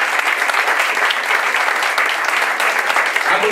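A crowd at the inauguration of a new centre applauds in a steady, loud, even wash of clapping that holds without pause throughout.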